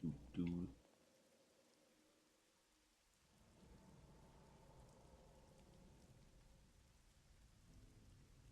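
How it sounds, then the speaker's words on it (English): Steady soft rain hiss in a video game, faint and continuous for several seconds after a brief burst of voice at the start. "Sound of rain."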